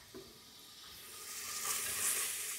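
Food sizzles and crackles in a hot pan while a vegetable sauté base is fried, a soft steady frying hiss that swells slightly toward the end.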